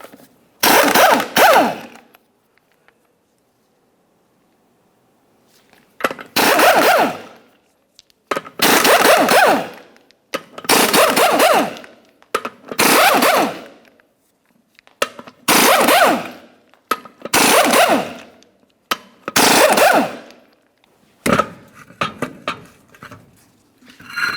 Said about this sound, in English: we'll continue on to removing all 8 of our 24mm lug nuts and then the wheel